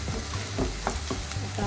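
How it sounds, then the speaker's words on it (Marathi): Curry leaves crackle and sizzle in hot oil while a vegetable tempering is being made, giving a steady close frying hiss with soft spattering pops throughout. "कढीपत्ता टाकल्यावर एक भाजीला वास मस्त येतो फोडणीला।"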